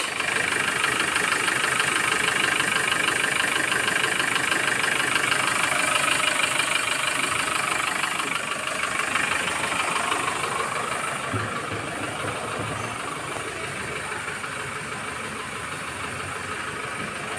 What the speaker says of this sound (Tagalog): malakas talaga yung pressure ng engine na to, na Bongo 2, fully electronic